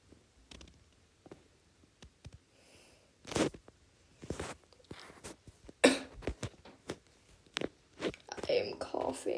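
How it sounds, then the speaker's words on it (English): Coughing from a person who has just swallowed water: several sharp, scattered bursts of coughing and throat noise, close to the mic, mixed with bits of quiet speech and small mouth sounds. "I am coughing."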